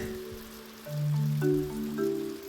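Rain falls in the video game Stonehearth, a soft, steady patter that runs through the whole stretch beneath louder tonal game music with sustained, shifting notes.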